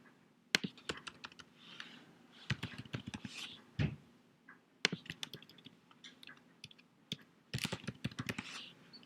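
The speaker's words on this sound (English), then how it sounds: "Not much to say as I'm typing." Computer keyboard typing while writing code, bursts of quick crisp key clicks separated by short pauses, with a few heavier thumps like the space bar or enter key, close and fairly quiet, no talking.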